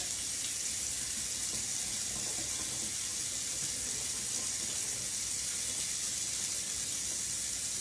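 Tap water runs steadily into a kitchen sink while food is rinsed beneath it, giving a continuous broadband hiss with faint splashing, close and even throughout with no talking.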